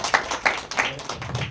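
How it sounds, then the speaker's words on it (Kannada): Audience applause at a Kannada film song launch press event, a short burst of scattered hand claps that rises and falls over mild room noise. "ಅವ್ರಿಗೊಂದು ಚಪ್ಪಾಳೆ ಕೊಡಬೇಕಂತ ನಾನು ಬಯಸ್ತಾ ಇದ್ದೀನಿ."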